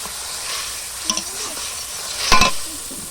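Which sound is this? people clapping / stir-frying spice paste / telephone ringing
stir-frying spice paste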